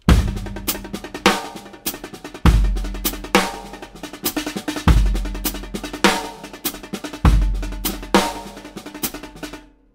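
A steady drum groove with strong kick and snare backbeats and soft, subdued left-hand snare ghost notes tucked between them, played close and clear.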